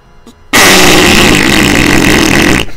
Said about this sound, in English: Now I'm going to breathe fire.